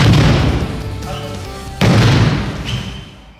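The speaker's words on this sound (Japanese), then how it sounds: "なんか足音がすごかったよ" Heavy stomping footwork from Bajiquan martial arts practice, with two loud, booming thuds against the ground a couple of seconds apart, each trailing off into a rumbling decay.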